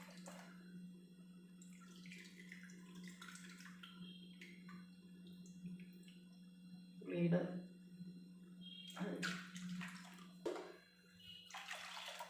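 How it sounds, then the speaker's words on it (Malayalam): Tamarind water is poured into a sardine curry base of ground coconut, fennel and shallots, giving short splashing bursts over a steady stove hum, with a voice speaking between the pours. "പുളിവെള്ളം ഒഴിച്ചു കൊടുക്കുക"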